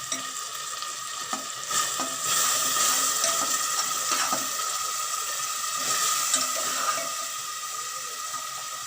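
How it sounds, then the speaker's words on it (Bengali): Tadka masala stir-fried in a pan gives off a steady, loud broadband sizzle, with a spatula scraping and clinking at intervals throughout; no voices. "ভালো করে একটু কষানো হবে।"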